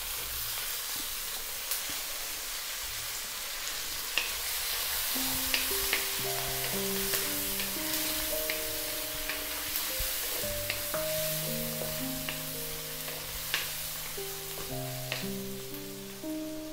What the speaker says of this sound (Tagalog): Gigisahin ko lang siya sandali.